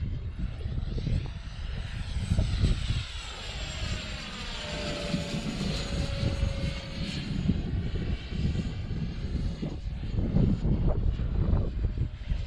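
A Freewing F-16 Arctic RC model jet flies overhead with a whining electric ducted-fan scream that sweeps in pitch as it passes, heard over steady wind buffeting the microphone.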